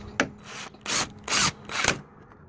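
A socket wrench works a 10 mm bolt on a Mercedes front grille, producing three or four short, close, rasping strokes separated by brief pauses, with no talking.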